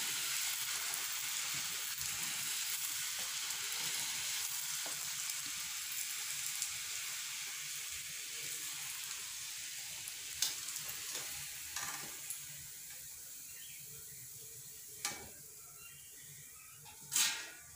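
Chola poori deep-fries in hot oil with a continuous bright, hissing bubble, steady and close, with a few sharp clinks and splashes toward the end as the dough is moved.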